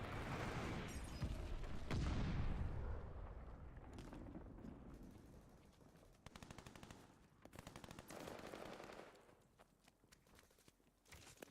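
Video game gunfire from Call of Duty: Vanguard rattles in rapid automatic bursts over a dense, loud battle soundscape, with explosions and ongoing action throughout.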